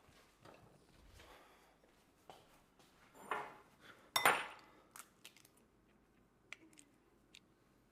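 A bowl is grabbed and handled in a home kitchen during gnocchi prep, heard as faint, scattered knocks and shuffles with one sharper clattering clink partway through, in an otherwise quiet room.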